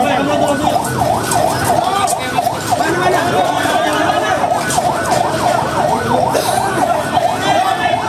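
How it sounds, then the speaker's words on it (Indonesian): Multiple ambulance sirens wail in fast, overlapping up-and-down cycles at a deadly train crash scene, loud and close, over engine rumble and people talking nearby. "Banyak ambulan belakang."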